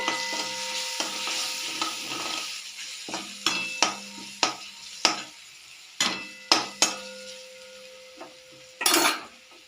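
Spice masala with chilli powder and turmeric being stirred in a pan for a vegetarian potato curry, a soft steady sizzle under repeated scraping and clinking of a spoon against the pan, with sharper knocks near the end.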